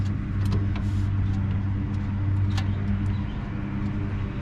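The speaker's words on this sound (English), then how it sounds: "we'll back it back down the driveway and stick her in the shop." A 1972 Chevrolet C10 pickup truck engine idles steadily and close by, a low continuous rumble with a few faint clicks and knocks over it, no talking.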